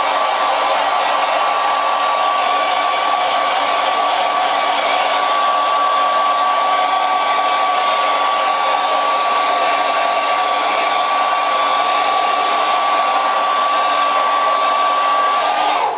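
Heat gun heat-setting paint on a blank jerkbait fishing lure, a steady loud close blowing hiss with a constant motor whine, unbroken for the full duration with no talking.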